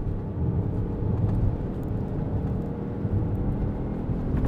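Peugeot 5008 GT 1.2 Hybrid with eDCS6 gearbox in sport mode accelerating hard to overtake, a steady low engine and road roar that swells slightly, heard from inside the cabin without talk.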